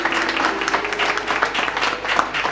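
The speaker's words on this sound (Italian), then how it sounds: "vi facciamo tanti applausi, è vero signori?" Steady audience applause fills a room for an elderly couple celebrating their golden wedding anniversary on a television show. Dense, continuous clapping from many hands, fairly loud and close, with no talk over it.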